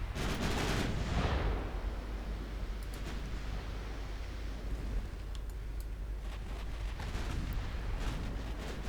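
Heavy battleship gunfire in the naval game Ultimate Admiral Dreadnoughts: a dense, continuous roar of cannon blasts and rumbling booms, loudest at the start, then steady broadband thunder throughout with no voices.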